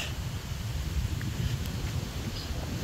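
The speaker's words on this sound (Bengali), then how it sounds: "দেখেন কি বাতাস," Strong wind gusting before a storm in a Bangladeshi village during the rainy rice-drying season: a steady, loud, low rumbling roar of wind buffeting the microphone throughout, with no talk.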